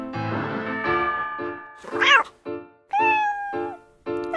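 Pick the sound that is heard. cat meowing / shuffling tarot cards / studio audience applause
cat meowing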